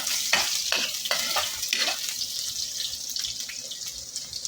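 Garlic and onion sautéing in a pan for pork and cabbage, a dense continuous sizzle with several quick scraping stir strokes near the start, close and steady, with no voices.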